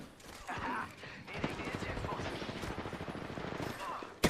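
Rapid automatic gunfire from a video game rattles in dense bursts, with sharper single shots mixed in and a loud crack at the very end, while a player talks over the shooting.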